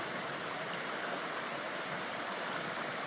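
Steady broadband rush of a creek flowing along a trail in Murray Canyon, continuous and even, fairly close with no other sounds standing out.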